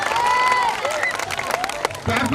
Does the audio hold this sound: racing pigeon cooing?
no